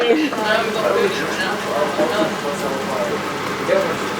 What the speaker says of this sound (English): You're really frying that bread? Fry that bread.